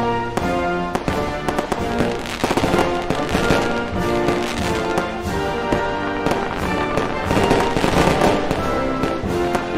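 Fireworks crackle and pop in dense, continuous bursts over patriotic music in a cartoon doodle animation, loud and busy throughout with no pauses.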